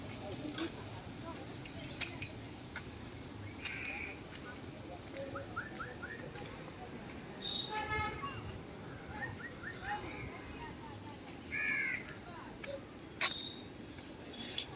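Birds calling at a zoo, with scattered short chirps and coos over a steady low background of outdoor noise and faint voices.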